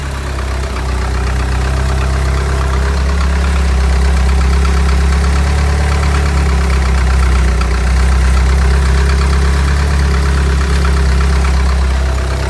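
A vehicle engine idles steadily and loudly after fluid has been added, a continuous low rumble with no talk throughout.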